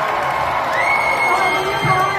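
A concert crowd at a charity show cheers and whoops in welcome, a steady wash of many voices close and loud, with a few higher shouts rising above the din.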